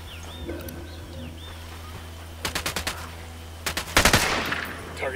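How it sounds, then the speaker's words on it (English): Video game gunfire in Ghost Recon Wildlands, during a mortar side mission: two bursts of rapid automatic shots, the second louder and followed by a boom, over a steady ambient hum. "I'm opening fire."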